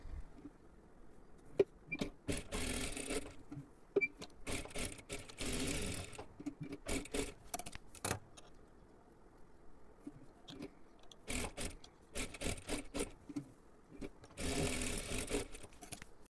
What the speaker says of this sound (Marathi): मार्किंग केलं त्याच्यावरती बरोबर अशी शिलाई मारून घ्यायची आहे